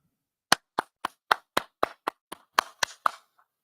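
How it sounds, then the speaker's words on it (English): A group claps hands in a brotherhood class, about eleven sharp, evenly spaced claps in a steady rhythm, close and loud with silence between them. "All right, clap it up."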